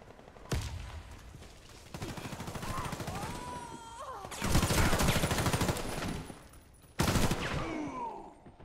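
Automatic gunfire in Warface, an online shooter round, with several sustained bursts of loud, rapid shots from about half a second on, swelling heavier midway and cutting in again near the end, amid in-game effects.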